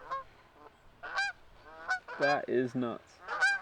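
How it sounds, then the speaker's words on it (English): A low-flying flock of geese honks overhead in a string of loud, overlapping calls that come and go, with someone speaking briefly between them. "There's some geese coming over and they're really low."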